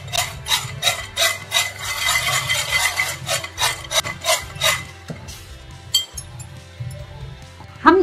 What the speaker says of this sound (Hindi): देखिए कितनी अच्छी आवाज आ रही है, कितनी क्रिस्पी पीनट बनी है